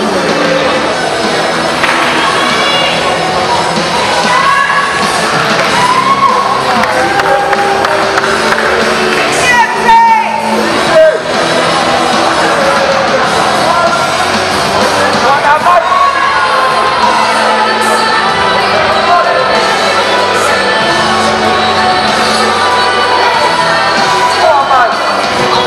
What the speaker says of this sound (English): Big round of applause for these 9 athletes.